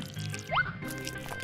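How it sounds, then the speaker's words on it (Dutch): Drops of liquid land during a DIY craft, a single bright plop with a quick rising pitch standing out over soft background clatter and low hum, followed by a few faint splashy ticks. "Druppels aanbrengen."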